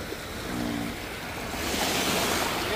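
Sea waves roll in on a hot, windy shore in Kuwait, a steady close roar of surf that builds into a louder wash near the end, with wind buffeting the microphone.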